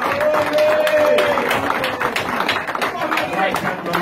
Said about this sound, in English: I'd like you all to give Ron a round of applause for what he's done